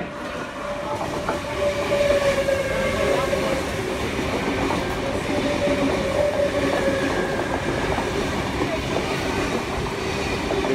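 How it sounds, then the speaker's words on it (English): A V-set passenger train runs past a station platform at Koolewong on the Western Line, a loud, steady rolling rumble with clacking wheels and a faint squeal throughout. "We should have another train passing platform number 1."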